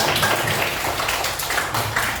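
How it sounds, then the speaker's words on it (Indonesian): A school class applauds in a classroom, a short, dense, continuous burst of clapping from many students, close and fairly loud. "Kasih tepuk tangan dulu."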